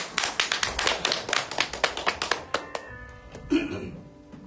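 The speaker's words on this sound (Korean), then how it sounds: "박수 한번 주세요." Audience clapping at a literary concert held in a church, a quick run of sharp individual claps that thins out and fades after a few seconds.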